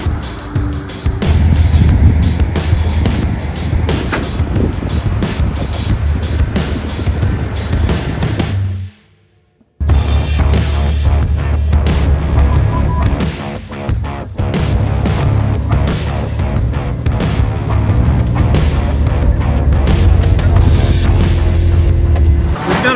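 A Willys Jeep droning along a dirt road in Moab, its engine and tire rumble loud and steady, broken by one brief near-silent gap before the same driving noise resumes.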